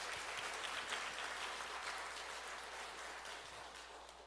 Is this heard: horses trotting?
no